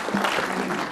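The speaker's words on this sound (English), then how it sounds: "A round of applause, please, for that first" An audience at a leadership forum in Kenya briefly claps, a short burst of dense applause from a crowd.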